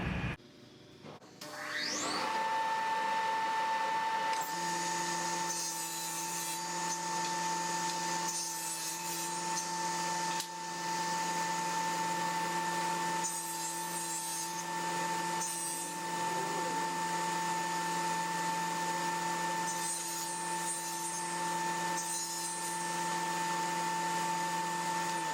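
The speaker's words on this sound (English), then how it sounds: "we need to cut the spline to go in there" A power tool cuts a wooden spline for a seam between two pieces of cherry-veneered MDF countertop, running steady and loud with a constant whine for about twenty seconds after a short start.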